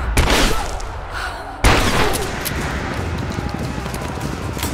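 Gunfire in the video game Rise of the Tomb Raider during a firefight at a village edge, two sharp loud blasts each followed by a rumbling decay, with dense crackling noise underneath.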